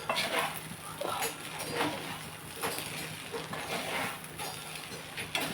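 Prawn egg fried rice being stirred in a pan, with repeated close scraping and clinking strokes of a utensil against the metal, fairly quiet with faint background noise.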